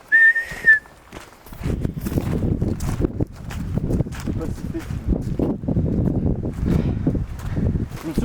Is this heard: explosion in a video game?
no